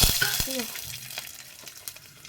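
Mustard seeds crackling and popping in hot oil in a home kitchen, a few sharp pops over a soft sizzle, close by, with a brief voice at the start.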